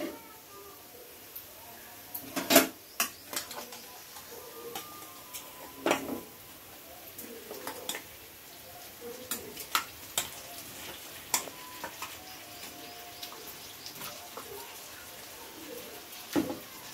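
Marinated chicken stirred into golden fried onions for chicken biryani, sparse sharp clicks and scrapes of a spoon against the pot over a quiet low sizzle, with faint talking at times.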